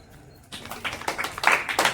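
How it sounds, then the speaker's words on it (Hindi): Classroom students break into a short round of hand clapping after a brief quiet moment. The claps come in a quick, scattered, moderately loud burst. "तब तालियां बजाओ।"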